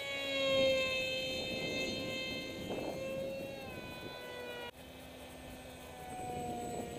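An RCPowers F117v3 RC model jet in flight gives a steady whining, siren-like tone with shifting harmonics, loud and continuous throughout, with a brief dropout partway through.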